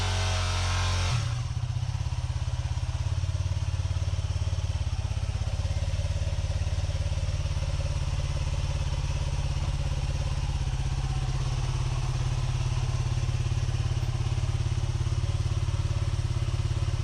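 Motorcycle engine idling steadily up close as the bike is ridden into a van, a continuous low mid-pitched rumble with a few clattering thumps from the start onward.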